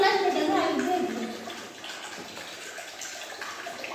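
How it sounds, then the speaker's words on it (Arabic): Water splashing and running into a container for ducks at a home bird coop, steady and close, with a voice and other talk faintly mixed in. "هحط طبعا ايه ميه للبط اهو"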